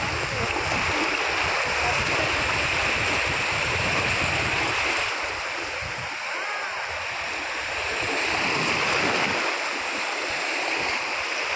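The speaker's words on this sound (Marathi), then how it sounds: "विलास मयकर यांनी डॉल्फिनला पाण्यात सोडलेलं आहे" Sea waves wash steadily onto the shore at Ladghar beach on the Konkan coast where a dolphin is being released, a loud continuous surf roar with gusty wind buffeting the microphone and occasional voices beneath.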